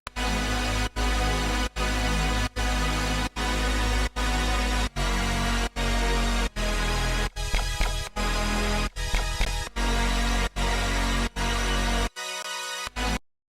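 A wide, bright synth chord stack pulses in repeated rhythmic chops with a steady beat, loud and dense, no voices.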